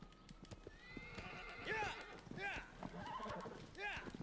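Horse from the Shadow of the Colossus video game, with hooves clip-clopping steadily throughout and several whinnies and neighs rising above, under talk and game noise.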